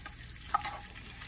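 Chopped onion fries in a pan, making a steady, close sizzle with a faint stir or clink partway through. The clip is brief and has no talk.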